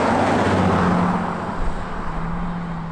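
A 14-year-old Bentley Continental GT rolls along at low speed, its engine hum steady and close with faint road noise, easing off as the car slows to pull over.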